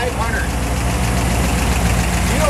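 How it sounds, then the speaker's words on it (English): A 1957 Ford Fairlane 500 fitted with a Thunderbird 312 four-barrel V8 idles steadily, a continuous low, even rumble close by with faint background voices mixed in. "312 four-barrel engine out of a Thunderbird. Runs like a top."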